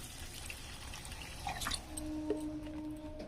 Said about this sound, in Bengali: এবার এখানে আমি জল দিয়ে দেবো।